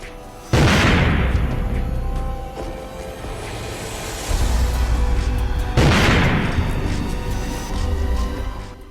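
A crude country-made bomb thrown at a house in a village near Chengalpattu explodes in two loud booms several seconds apart, each a sharp blast trailing into rumbling noise, captured in rough news footage.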